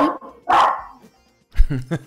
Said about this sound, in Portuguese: Ela é pequenininha, mas ela tem esse latido poderoso.